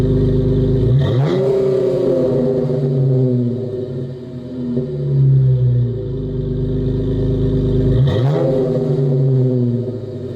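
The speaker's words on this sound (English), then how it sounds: "I believe it's a mid muffler delete, so it has a little bit of a rasp to it." A 2013 Dodge Challenger V6 with a mid muffler delete revving, its raspy exhaust rising in two swells with a droning idle between, loud and close with no talk.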